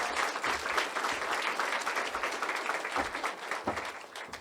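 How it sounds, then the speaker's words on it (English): Audience at a grand opening celebration for a teaching and learning center breaks into loud, sustained applause, dense clapping filling the whole stretch without pause. "can we give her another round of applause and congratulate her?"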